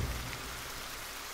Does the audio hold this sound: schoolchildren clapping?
no